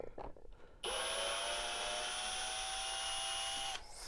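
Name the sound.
removing screws from a vacuum cleaner brush housing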